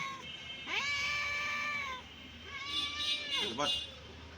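A sick cat at a veterinary clinic after an injection gives two drawn-out, wavering meows, the second rising into a sharper cry, close and fairly loud against a quiet room.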